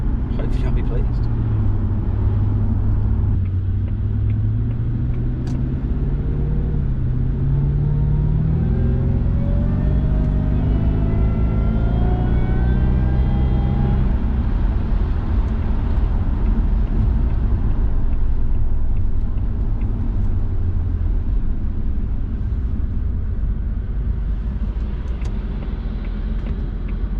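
A Jaguar XKR with an aftermarket exhaust accelerates, its engine note climbing in steady rising harmonics from a deep rumble into a strained rev, then settling back to a loud, continuous drone recorded close up from inside or near the car.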